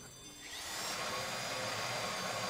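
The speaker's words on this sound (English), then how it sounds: "Oh, we gotta drill it." A drill grinding into a deposit box during a bank heist in GTA 5, rising after a brief start into a steady, loud high-pitched whine that holds without a break.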